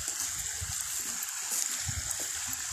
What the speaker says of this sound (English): Of course, we have a brook here.